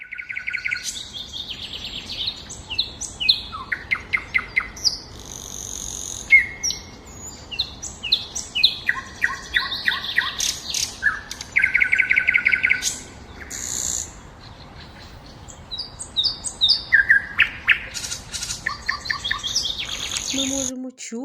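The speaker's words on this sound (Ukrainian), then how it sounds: "ми можемо чути, як співає пташка." A bird sings a varied series of chirps and trills, repeating quick phrases with short pauses, clear and close.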